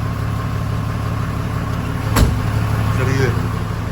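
A car sits idling with the handbrake on outside a home in Murree, Pakistan, its steady low engine hum running throughout, broken by one sharp click midway, with voices talking nearby.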